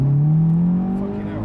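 Audi S3 8V with about 400 bhp in dynamic mode accelerating hard from inside the cabin, a loud rising engine drone that eases off after a second as the revs fall.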